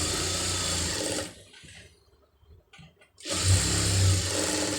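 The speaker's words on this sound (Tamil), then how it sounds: "இப்போ வந்து தையல் ஓட்டுங்க" A sewing machine stitches a fabric shoulder joint, running loud and close with a steady whirring hum, pausing briefly in the middle, then starting up again at full speed.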